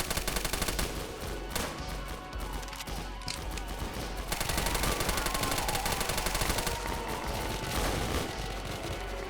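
Sustained, dense gunfire from the Roblox game The Scavengers, a loud, continuous rattle of rapid shots that barely lets up across the whole stretch.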